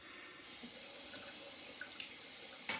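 A faucet runs steadily into a sink as water is splashed to rinse the face after shaving, a continuous close rush of water with small splashes and a louder splash near the end.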